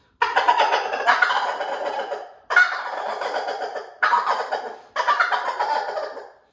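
A gobble tube call mimics a turkey gobble in four close, raspy, rattling bursts, each a second or more long with brief gaps between, and no talking.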